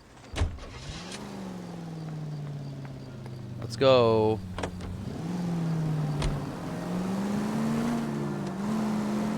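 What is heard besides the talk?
car engine driving, from the video game L.A. Noire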